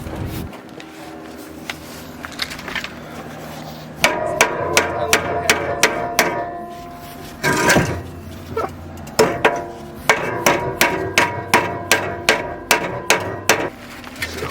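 Hammer blows on metal while working on a Miata during a turbo engine swap in a garage, coming in quick rhythmic runs of sharp clangs with short pauses between bursts, close and loud.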